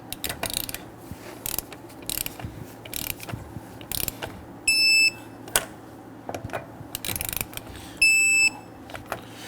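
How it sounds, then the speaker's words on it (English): A torque wrench tightens the lug nuts on a 2010–2019 Ford Taurus wheel. Close, sharp ratcheting clicks come in short bursts, and two brief bright clicking buzzes mark the wrench reaching torque. "Now let's go ahead and torque down our lug nuts to 100 foot-pounds."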